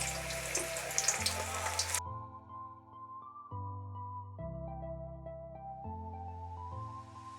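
Onion bonda deep-fry in oil with a soft, brief sizzle at the start, quickly giving way to background music that carries on alone.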